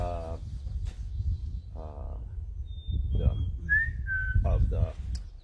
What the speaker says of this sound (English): black cap chickadee mating call